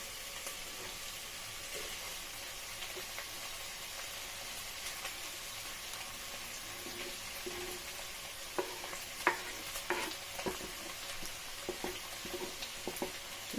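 Meat frying in a pan with chopped plum tomatoes for spaghetti bolognese, a steady close sizzle with scattered scrapes and clicks of a utensil stirring, growing busier toward the end.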